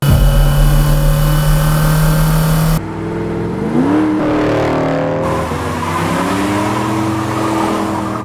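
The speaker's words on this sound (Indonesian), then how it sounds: "mereka mendapatkan sebuah mobil berwarna hitam yang melaju kencang" A black sedan speeding along, its engine droning loudly with a sharp cut midway and rising, shifting engine tones that suggest acceleration, with no voices over it.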